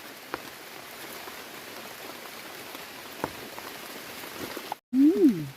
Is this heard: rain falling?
yes